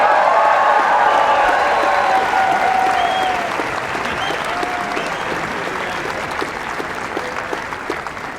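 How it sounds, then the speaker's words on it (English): Applause from a political rally crowd, steady dense clapping that fills the whole stretch and slowly eases off, loud and close with no talk over it. "give him a round of applause."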